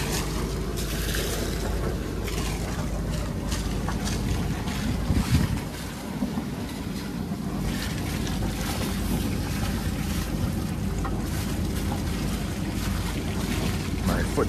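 A sailboat under way in wind on the approach to the Azores, with continuous low wind rumble buffeting the microphone, water rushing past the hull and faint rattles, all steady throughout.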